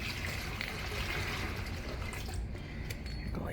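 Dirty water drains steadily from a Samsung washing machine, with a sock caught in the drain pump, into a bucket, a continuous close splashing gush that holds throughout and thins slightly near the end.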